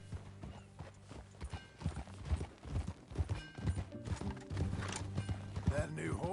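A horse in Red Dead Redemption 2 clip-clops along at a steady gait, hooves plodding close by with snorts and a whinny, under a low music bed and intermittent in-game talk.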